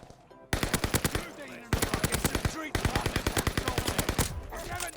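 Marco 5 submachine gun fire in Call of Duty: Vanguard, with loud, rapid automatic bursts in three long strings and brief pauses between them.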